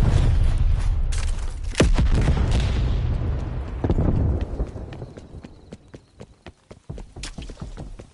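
Grenade explosion in the shooter Call of Duty Cold War: a loud, close blast with a long rumbling decay that fades over several seconds, followed by scattered sharp clicks and pops of distant gunfire.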